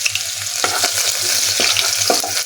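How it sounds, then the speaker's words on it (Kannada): Garlic frying in hot oil in a pan after mustard seeds, a steady close sizzle broken by repeated scraping strokes of a spoon stirring through it, with a low hum running underneath. "ಸೊ ಬೆಳ್ಳುಳ್ಳಿ ಸ್ವಲ್ಪ ಫ್ರೈ ಮಾಡಿಕೊಂಡು ತಿರುಗಿಸ್ಕೊಳ್ಳಿ"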